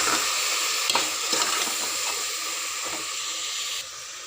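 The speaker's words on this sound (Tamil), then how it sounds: "நல்லா கிண்டி விட்டுருவோம்." Vegetables frying for sambar as chili powder is stirred in: a steady loud sizzle and hiss in a pan, with scraping stirs of a spoon against the pan, close up, no talking.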